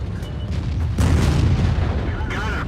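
A single heavy gunshot booms in a video game, a loud low blast about a second in that rolls away over continuous game noise.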